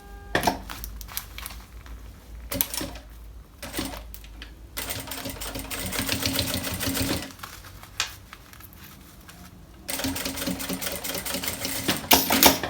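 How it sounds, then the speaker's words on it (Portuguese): A sewing machine runs in stitching bursts along the edge of a fabric pencil case, its rapid mechanical chatter starting and stopping in several long runs with short pauses between, close and steady. "venho aqui na minha máquina e passo a costura aqui na beiradinha"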